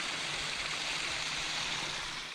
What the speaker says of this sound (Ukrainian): Знайшли ось такий водоспад серед лісу.